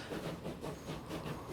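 Trains rolling along a railway in the Transport Fever 2 simulation, a soft rhythmic clickety-clack of wheels over rail joints with a low rumble, faint and steady with no talking.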